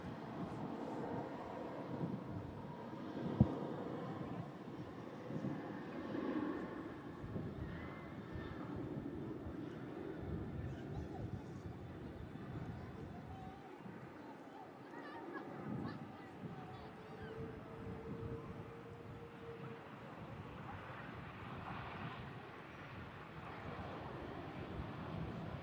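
An ATR 72 turboprop arriving from Dublin, heard as a low, distant engine rumble blended with wind noise that swells and fades over about twenty-five seconds, faint and continuous.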